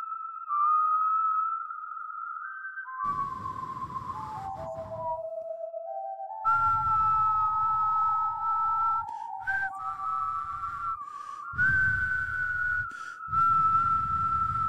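A whistled melody carries on alone, sliding between held notes with short pauses, over a soft rumbling background.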